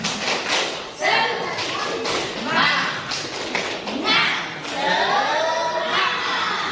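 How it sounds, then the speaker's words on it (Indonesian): A group at an Indonesian school training session does a rhythmic spirit clap in patterned bursts, mixed with chanting voices and children's speech in a lively room. "Tepuk semangat."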